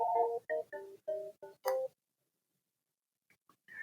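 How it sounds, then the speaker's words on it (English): Telephone ringing in the background of a podcast recording, a series of five short melodic ring tones in a steady rhythm, followed by silence and faint trailing tones. "sorry for the phone ringing in the background"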